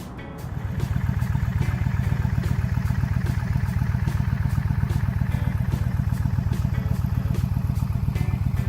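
A motorcycle engine starts and settles into a steady, close, rapid throbbing idle on a day of a rally ride, its even pulses continuing loudly after a brief quiet moment at the start.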